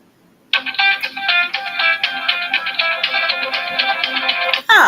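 A phone ringtone plays loudly and steadily for several seconds, a bright repeating melodic tone that starts abruptly and continues until cut off near the end, heard alone indoors.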